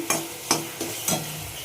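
Spice paste with a little sugar and water frying in a pan, four distinct stirring scrapes at a steady rhythm over a faint continuous sizzle, close up and without talk.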